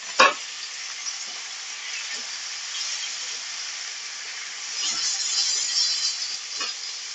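Chopped tomatoes hit hot oil among nearly fried onions in a pan, a sharp crackle at first, then a steady sizzle and hiss with light stirring scrapes, close and alone with no voices.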